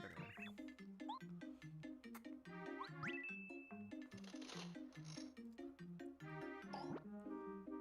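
Little oink creatures in the video game Paper Mario make oinking and boinging sounds over bouncy, chiming game music, with steady rhythmic notes throughout.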